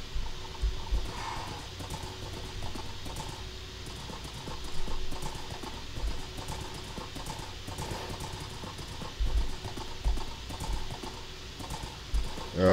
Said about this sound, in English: definitely a good place to be riding a horse